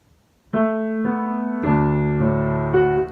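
Piano plays the hymn "Be Thou My Vision" as a slow, sustained chordal melody, notes ringing out and layering as a left-hand lower line enters partway through; solo instrument, no voices.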